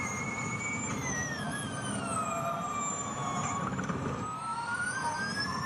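A DS Techeetah Formula E race car brakes and slides on the streets of Jakarta. Its electric drive whine drops in pitch and then climbs again over steady road noise, fairly faint, with no voices.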